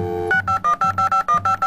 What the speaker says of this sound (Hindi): जरा उनको कॉल मिलाई जाए।